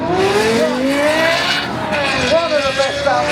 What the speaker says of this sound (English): Lexus LFA B10 Spice. The sound of this is